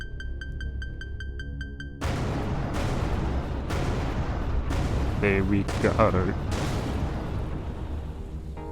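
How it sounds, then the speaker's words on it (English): Loud, booming explosions in space from the video game Everspace 2 arrive in several bursts after a quiet musical intro, with a brief spoken phrase near the start. "Explosions are beautiful."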